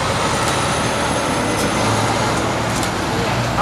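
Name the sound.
traffic noise outside a city press conference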